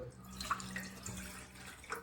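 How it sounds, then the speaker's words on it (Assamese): A little water is poured into a kadai wok over a gas flame, a brief soft splashing and trickling against a low steady hum. "পানী দিলোঁ"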